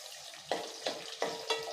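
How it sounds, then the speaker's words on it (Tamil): Fenugreek seeds spluttering in hot oil for Tamil puli kuzhambu: four quick, crackling pops spaced about a third of a second apart over a low frying hiss, close and fairly quiet. "வெந்தயம் நல்லா பொரிய ஆரம்பிச்சிருச்சு"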